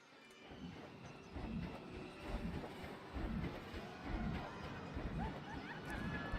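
A train runs along its track in the Planet Coaster game, a soft rolling rumble with faint clickety-clack that rises and falls under quiet talk.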